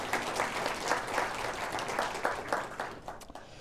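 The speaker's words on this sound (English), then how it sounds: "Give yourself a round of applause for all being here." An audience claps steadily and densely, a full lecture room applauding at moderate loudness that tapers slightly toward the end.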